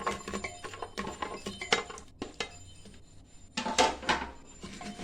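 Muthiya and chilies being stirred into undhiyu in a pot, producing irregular clinks, knocks and scrapes of a spoon against metal in short bursts with quieter pauses between, and no talking.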